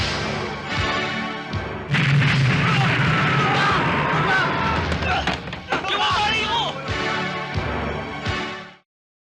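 Loud booming explosions and heavy thuds from a Filipino action film scene, repeated bursts of blasts with rumbling low end over several seconds, mixed with shouting voices, before cutting off abruptly.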